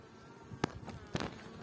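Honeybees buzz softly around a nonstandard hive, a low continuous hum with a couple of brief louder passes close by.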